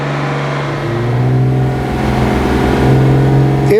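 A car engine held steadily at about 2000 RPM during 3C carbon cleaning, a continuous near idle-rev drone with a slight rise in pitch and no talking.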